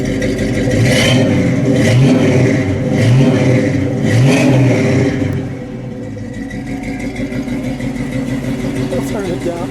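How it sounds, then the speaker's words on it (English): A 1970 Mercury Cyclone GT with a 351 Cleveland V8 and Flowmaster exhausts revs up loud and close in several rising pulses, then settles into a lumpy idle, with voices talking over the engine. "Those 351 Cleveland sound good. And with Flowmasters, they sound better."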